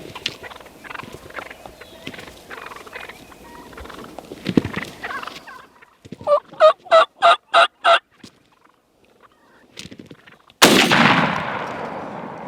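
A shotgun goes off close by on a frosty-morning turkey hunt. First comes a quiet stretch, then a rapid run of turkey gobbles, then the single loud blast with its echo.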